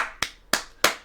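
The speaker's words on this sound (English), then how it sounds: "Clap it up for Magic." Three sharp, crisp hand claps spaced evenly about a third of a second apart, close and fairly loud, each quickly fading, with no talking.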